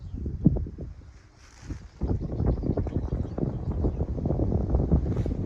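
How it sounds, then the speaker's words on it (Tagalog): Wind gusting on a farm, buffeting the microphone in low rumbling bursts that ease briefly and then return stronger. "It's windy."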